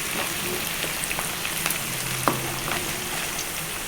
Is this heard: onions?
yes